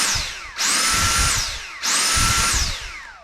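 Dyson cordless vacuum running on a replacement battery, two loud whining bursts that spin up and wind down, each about a second long with a steady high whir, close by and without talk.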